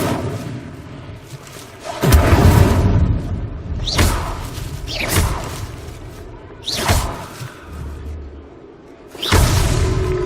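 Fiery Incendio spell blasts from the Hogwarts Legacy video game burst out about five times at regular intervals, each a loud whooshing boom that swells and fades.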